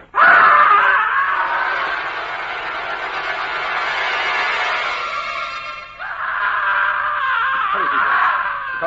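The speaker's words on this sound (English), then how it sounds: "Listen, a scream from the window." A woman's scream rings out from a window in a radio drama, a loud sustained wail that rises, holds, breaks off briefly and returns with a wavering moan.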